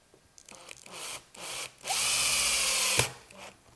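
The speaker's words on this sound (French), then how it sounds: "On va la visser également." A power drill drives screws into a wooden Christmas tree frame, with short whirring bursts followed by one long sustained run that ends in a sharp knock.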